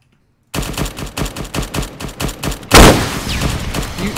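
Burst of automatic gunfire in the military video game Arma 3, a steady rapid string of shots for about two seconds followed by a louder, denser blast and ongoing noisy rumble.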